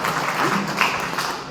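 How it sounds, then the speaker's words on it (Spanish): Brief applause from an audience at a literary event in a cultural athenaeum, a steady wash of clapping for under two seconds with no clear talk over it. "un nuevo aplauso para Teresa"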